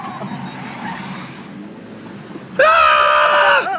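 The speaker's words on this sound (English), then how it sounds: "That is the visceral scream of humanity meeting advanced technology" A person lets out a loud, sustained scream inside a self-driving car, abruptly rising over the muffled road and cabin noise for about a second before cutting off.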